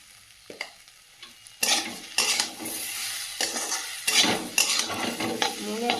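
Potato dal with turmeric fries and is stirred in a pan, with loud bursts of sizzling and spatula scrapes against the metal after a quieter start.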